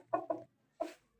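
A red rooster gives three short clucks, two quick ones and then one after a brief pause, close and clear with no other sound.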